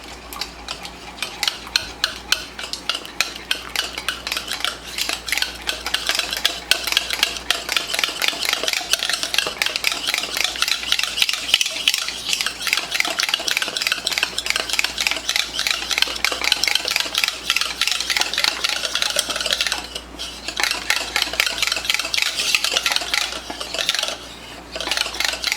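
A whisk beats homemade hair mask ingredients in a bowl with rapid, steady rhythmic scraping and tapping that runs on almost without pause, close and fairly loud.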